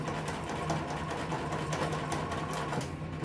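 A sewing machine stitches a window seat cushion cover in a steady, close, continuous mechanical whir, with no talk.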